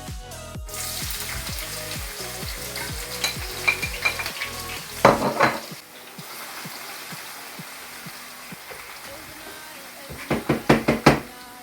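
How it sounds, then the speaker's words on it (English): Chopped onions go into hot frying oil in a pan, with hollow knocks of a wooden spoon stirring early on, then steady sizzling and crackling broken by a few louder bursts of frying. "And as you can hear, it's hot enough. So now you'll add your onions."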